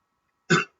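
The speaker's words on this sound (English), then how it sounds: "I need to cough again." A single short cough, close and fairly loud, lasting a fraction of a second in otherwise near silence.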